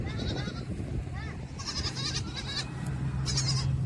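Goat bleating repeatedly at a rural farm home, several wavering calls in close range over steady outdoor background noise, with faint voices nearby.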